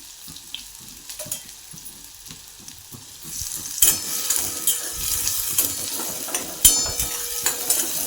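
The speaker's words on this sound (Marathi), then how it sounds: "जिरं टाकून घेतलं आता याच्यामध्ये आलं टाकून घेतलं लसूण टाकून घेतला आणि कांदा टाकून घेतला परतायला" Cumin, ginger, garlic and onion sautéed in a pan for a mixed dal, with quiet spoon taps at first, then a loud sizzle as ingredients hit the oil, plus stirring and scraping.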